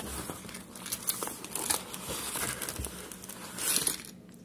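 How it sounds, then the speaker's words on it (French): A canvas print being unwrapped from its packaging, giving close, continuous crinkling and rustling of wrapping material with sharper crackles now and then. "On déballe la toile."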